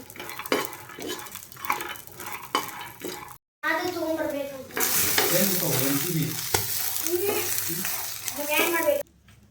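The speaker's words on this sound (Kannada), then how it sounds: "ಹಸಿಮೆಣ್ಸಿನ್ಕಾಯಿ ಮತ್ತು ಒಂದು ಸ್ವಲ್ಪ ಶೇಂಗಾನ ಹಂಚನೆ ಹಾಕಿ ಹುರ್ಕೊಳಕ್ಕಂತೀನಿ ಒಂದು ಸ್ವಲ್ಪ ಎಣ್ಣೆ ಹಾಕಿ" Green chillies and peanuts roasting in a little oil, a loud close sizzle and crackle with repeated metallic clatter of a spoon against the pan, a brief silent break, then busier frying mixed with bright scraping.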